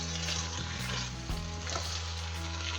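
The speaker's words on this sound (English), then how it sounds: "it calls for sauteing for like 5 minutes" Vegetables for minestrone soup sauté in a pan with a continuous close sizzle and crackle, an occasional stir, and a steady low hum underneath.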